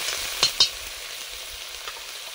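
Mashed boiled potatoes with chopped onion, ginger and garlic fry in mustard oil in a wok, giving a soft continuous sizzle with two quick sharp spatters near the start and a faint one later.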